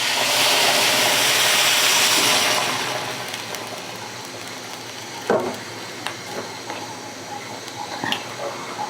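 Hot water poured into rice frying in a pot for khichuri, a loud rushing hiss and sizzle for the first three seconds that fades into a softer simmer with a few clinks of a spoon.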